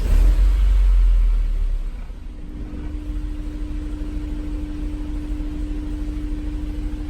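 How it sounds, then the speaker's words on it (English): A Honda S2000 engine idles with a misfire, giving a low, steady, slightly uneven rumble up close after a brief louder surge at the start, with no talk over it. "looks like we still have that kind of lumpy idle going on here"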